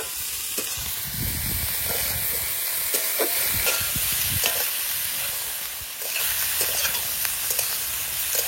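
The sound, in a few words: cooking broccoli and fish, turmeric powder added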